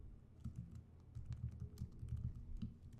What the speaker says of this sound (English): Type in what you wish to say and click the tweet button.